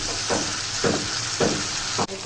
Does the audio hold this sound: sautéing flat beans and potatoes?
yes